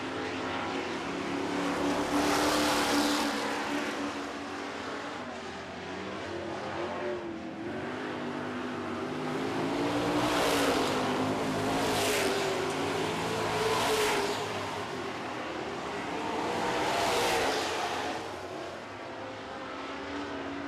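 Super Truck race engines roar through a heat race, swelling and fading in repeated waves as the trucks pass, loud and continuous with no voices over them.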